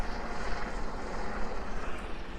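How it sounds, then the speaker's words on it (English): A helicopter lifts off from a large yacht, a steady loud roar of rotor and engine filling the air throughout with no talking. "now there's a helicopter taking off"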